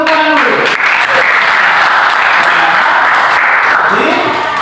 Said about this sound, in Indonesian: Bagus sekali, tepuk tangan dulu.